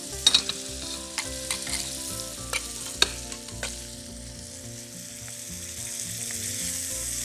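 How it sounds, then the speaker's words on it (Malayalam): Squid roast gravy with ginger, garlic, onion and tomato cooks down in a pan, a steady close sizzle with occasional sharp stirring clicks and scrapes, no voices. "ഇനി ഈ ഗ്രേവി ഇതിനകത്ത് കിടന്ന് വറ്റട്ടെ."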